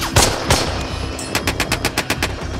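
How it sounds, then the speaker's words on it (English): Machine gun suppressing fire in the WWII shooter game Hell Let Loose, during a battle at Foy: a few loud single shots, then a close, steady, rhythmic string of rapid rounds. "Suppressing fire now!"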